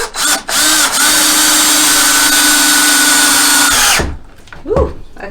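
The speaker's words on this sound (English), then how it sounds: "hold everything in place while I drive these screws" A power drill drives pocket-hole screws into spalted elm boards for a table base, a steady loud whirring motor run of about four seconds with a rising pitch, then a brief grab and stop followed by a short clatter.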